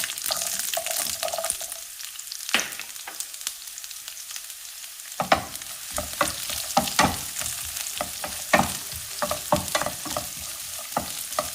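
Small shallots fry in hot coconut oil with spluttered mustard seeds for a spicy Kerala side curry. A loud, bright sizzle dips briefly, then returns with crisp, irregular clacks of a spoon stirring against the pan.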